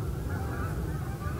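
Canada geese honking beside a lake, several overlapping calls in a steady, dense chorus with no clear gaps.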